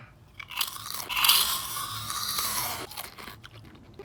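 Plain potato chips cooked in avocado oil are bitten and chewed close up, giving a dense, crackling crunch that runs for a few seconds and then fades, with no talking.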